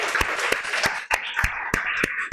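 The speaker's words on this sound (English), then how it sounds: "let us give her a huge round of applause" Audience at a Toastmasters club meeting claps together in a steady burst of applause, with individual hand claps sharp and close over a dense wash of clapping that continues throughout.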